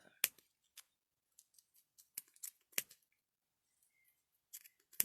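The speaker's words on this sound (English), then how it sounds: "The only issue I really had, which I'll try with these scissors, I had trouble kind of cutting." Small scissors snipping tightly wound yarn for a loom-knitted pom pom, scattered sharp clicks and crunchy cuts in an irregular rhythm, close and fairly quiet with gaps between snips.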